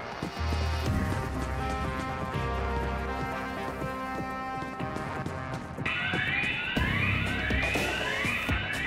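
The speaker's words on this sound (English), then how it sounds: "Somebody set off the alarm." An alarm going off in the video game Payday 3, a repeating electronic tone pattern over game noise, growing louder and busier partway through.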